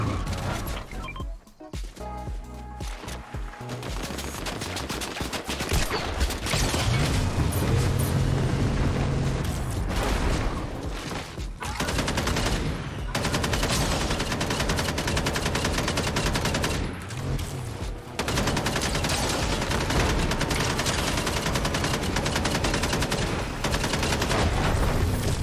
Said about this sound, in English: First time I fired that gun in a long time